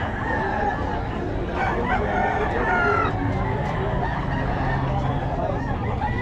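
Gamefowl roosters crow loudly and repeatedly at a busy outdoor market, their calls overlapping with clucking and crowd noise throughout.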